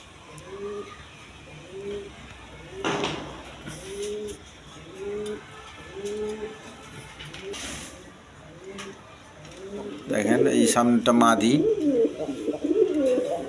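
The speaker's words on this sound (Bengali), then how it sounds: "এখানে এক পেয়ার সিলভার কবুতর আছে, সিলভার গিরিবাজ কবুতর বলে" A pair of silver Giribaz pigeons coo in a steady, repeating rhythm of soft low calls close by, while someone talks over them and a louder burst of fluttering and jumbled calls rises near the end.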